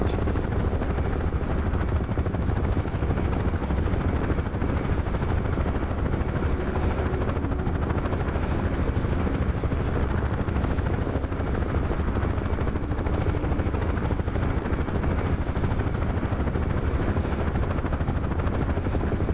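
UH-1 Huey helicopter in a VR combat game, a loud steady rotor roar and engine drone held without pause throughout, up close, with faint higher whine and no clear voices.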